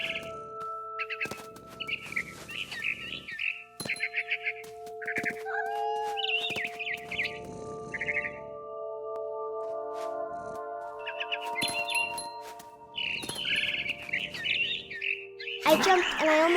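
Repeated barn swallow chirping in What Remains of Edith Finch, short clustered tweets coming in bursts over a low hum of game ambience, with a louder flurry closing the passage.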